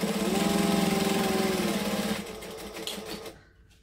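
Sewing machine stitching vinyl on a clutch bag, a fast even rattling run for about two seconds that then slows and stops, followed by faint handling noise.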